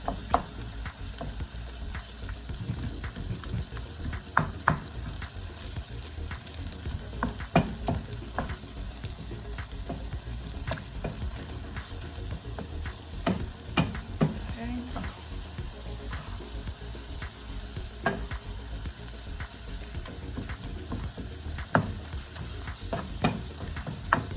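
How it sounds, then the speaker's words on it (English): Lasagna filling sizzles steadily in a pan while a utensil stirs it and breaks it into smaller pieces. Scraping taps sound at intervals over the continuous frying hiss. "So mix it up. You want to break up in there to make sure it cooks really good."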